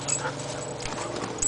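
A dog makes soft whimpering and yipping noises close by, a few short sounds over a steady background.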